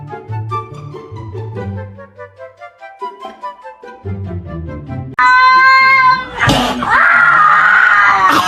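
A kitten meows repeatedly in short rhythmic cries, then breaks into a loud, sustained scream-like wail near the end, close and alone with no talk.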